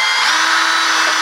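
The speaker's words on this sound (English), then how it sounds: "I'm gonna countersink these" A power drill countersinks holes in a wooden endplate for a FreeMo model railroad module, producing a loud, close, steady whirring whine with no pause.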